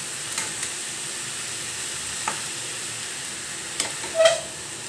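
Cabbage and other chopped vegetables for a momo filling cook in a pan with a steady, soft sizzle, broken by a few faint scrapes of stirring and a slightly louder stir near the end.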